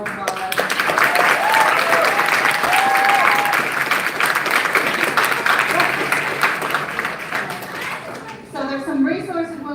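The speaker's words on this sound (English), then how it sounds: "So let's give them a round of applause." Audience at a convention opening ceremony applauding volunteers and staff, a dense wash of clapping that gradually thins out, with speech and cheering voices mixed in and a voice emerging near the end.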